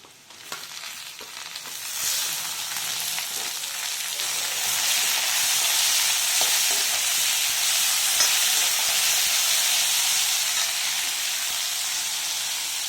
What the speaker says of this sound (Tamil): இப்போது கட் பண்ணி வச்சுருக்க தக்காளி நம்ம சேர்த்துக்கலாம்.